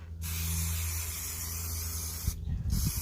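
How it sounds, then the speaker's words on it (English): Aerosol spray can hissing steadily onto furniture during a decoupage top coat, a continuous close spray lasting most of the moment with a brief break near the end, no talking over it. "I'm gonna just spray some of this."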